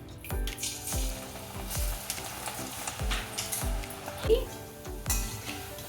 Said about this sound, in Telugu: నేను స్టవ్ పైన కడాయి పెట్టి ఆయిల్ వేడి చేసుకున్నానండి ఇది పకోడీ వేసుకుందాం వేడైందండి మనము పకోడీ పిండి వేసేసుకుందాం